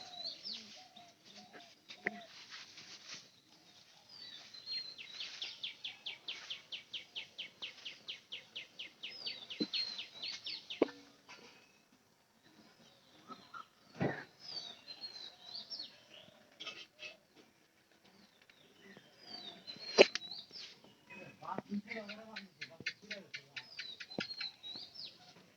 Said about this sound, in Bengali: ন্যাংরা পায়রারা একটু বেশি ডাকতেছে